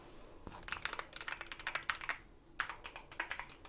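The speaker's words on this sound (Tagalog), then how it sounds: "hindi nila magustuhan yung tunog ng keyboard" Rapid, close keystrokes come from a pink backlit computer keyboard, with quick clattering runs, a brief pause, then more typing and no voices.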